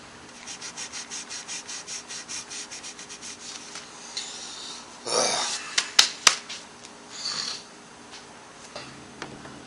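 Guitar frets being polished by hand after fret leveling, a rhythmic series of close rubbing strokes at first, then scattered scrapes and a few sharp ticks, with no talking.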